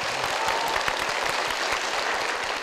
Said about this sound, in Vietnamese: Vỗ tay tiếp tục đi